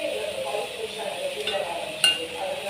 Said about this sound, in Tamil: இப்போ இந்த காய் நல்லா வதங்கட்டும்